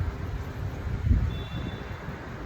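Wind gusts buffet the microphone outdoors during a yoga class in Cambodia, a low, uneven rumble that swells briefly midway and then settles back to a steady roar.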